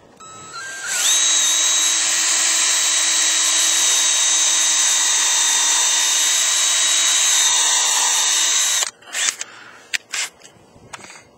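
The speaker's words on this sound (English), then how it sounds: "I'm pre-drilling my holes for my screws." A power drill pre-drilling screw holes in wood for a ranch rail fence whirs steadily for about eight seconds, loud and close, then stops, followed by a few sharp clatters and knocks.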